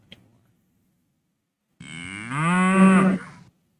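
A single drawn-out cow moo rises and swells loudly, close and clear, in the farm-management strategy game Lords of the Realm, with near silence before it apart from a faint click.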